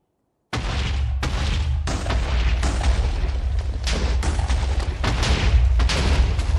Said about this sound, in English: I do love watching TNT explode in Minecraft.